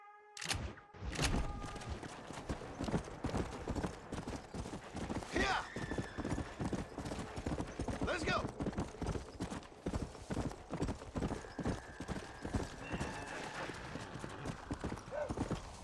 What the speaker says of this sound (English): I'm assuming this is the horse.